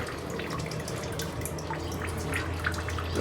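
Water from a tap in a hotel bathroom spatters against the sink, a faint, close, irregular patter of drips and splashes over a low background hum.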